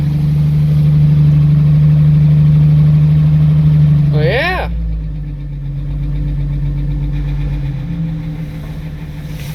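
Car engine idling while it warms up, a steady low hum that holds throughout, dipping slightly partway through as a person briefly speaks.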